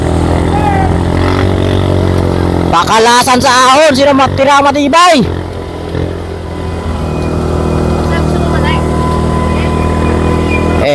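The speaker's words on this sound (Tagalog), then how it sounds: "Sundan mo yung motor." Motorcycle engine revving and droning nearby during an uphill race, holding a steady hum with a burst of rising and falling revs in the middle, while someone talks over it.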